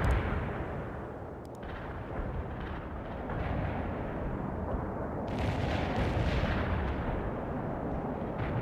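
Sustained artillery barrage in the World in Conflict game, a dense, loud continuous rumble of overlapping blasts filling the whole stretch with brief swells and no voices.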